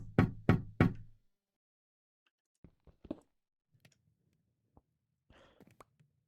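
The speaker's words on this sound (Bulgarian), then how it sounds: "На вратата или на прозореца почука някой?" Three sharp, close knocks on a door or window in a Minecraft horror mod, followed by faint scattered taps and clicks in an otherwise quiet setting.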